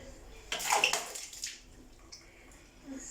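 Water splashing and trickling as a newborn baby is bathed Indian-style, a brief close burst of splashes followed by quieter drips and soft trickling.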